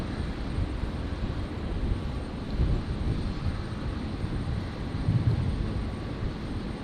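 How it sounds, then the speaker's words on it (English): A Fokker aircraft at Brisbane airport, its engine a loud, steady broadband roar and rumble that holds throughout with slight swells, heard from fairly close with no voices over it. "the Fokker is coming through the mic"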